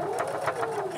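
A sewing machine stitches close to the folded edge of a lined zipper pouch, a steady rapid mechanical whir with fast regular needle pulses, close and moderately quiet, no talking.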